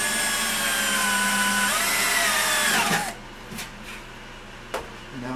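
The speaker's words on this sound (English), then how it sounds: "I'm drilling the skin in this part of the flange to be a bit thicker" Power drill boring through an aluminum fuel tank's sheet metal flange, a steady high whining drone for about three seconds, then it winds down into a few short clicks and taps.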